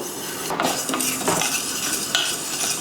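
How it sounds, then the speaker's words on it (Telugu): Fenugreek seeds dry roast in a pan with no oil, stirred so they rattle and scrape against the metal over a faint sizzle, close and without talk. "చక్కగా మెంతులు కమ్మటి వాసన వచ్చేలాగా వేయించుకోవాలి."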